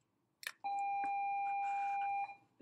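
A school intercom chime sounds before an announcement: a short tone followed by a steady, loud electronic beep held for about a second and a half, then a brief trailing blip.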